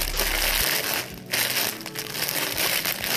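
Plastic packaging for hair extensions crinkles and crunches loudly up close, in a continuous handled rustle with a brief lull partway through.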